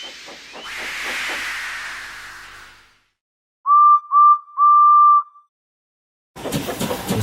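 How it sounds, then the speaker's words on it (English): A steam engine hissing and whistling, a broad rush of escaping steam fading out, then three short whistle toots, followed by a sudden noisy burst. "So they lit his fire, made lots of steam, and Edward puffed away."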